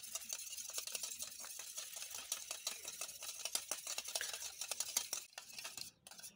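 Eggs with a pinch of salt being beaten in a bowl for a biscuit cake, a quick, steady run of light clicking whisk strokes against the bowl, close and fairly soft, with no talking.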